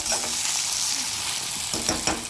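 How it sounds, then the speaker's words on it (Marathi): Tomatoes frying in a pan for shark keema give a loud, close, continuous sizzle with stirring scrapes throughout, and no one talking. "आता आपण लगेच हे टॅमॅटो घालून घेऊया आणि हे चांगलं"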